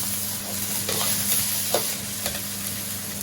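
Oil sizzles steadily in a pan with chopped scallions, a loud close hiss carrying through with a few soft stirring scrapes.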